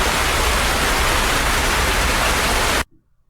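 Steady, loud broadband rain noise hisses continuously for nearly three seconds, then cuts off suddenly into near silence.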